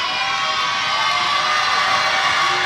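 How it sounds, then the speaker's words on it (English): Loud home crowd at a boys high school basketball game swelling in noise during an opposing player's free throw, a dense steady roar of voices throughout with no single standout shout. "You hear the crowd getting loud, trying to throw him off."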